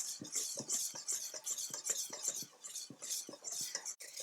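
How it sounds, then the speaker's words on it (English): A spoon or utensil stirring thick chocolate fudge cake batter in a bowl, steady repeated scraping strokes close up and fairly quiet, heard alone. "Now I'm going to just go ahead and mix this up really, really well."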